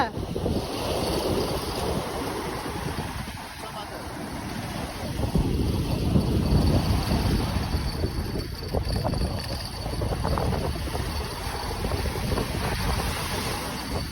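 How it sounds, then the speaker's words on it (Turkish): Strong wind roars and buffets steadily across the microphone on the Black Sea shore, mixed with the wash of waves and water nearby, continuous throughout with no talking. "çok rüzgar var"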